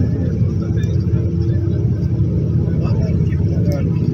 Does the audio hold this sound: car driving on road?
yes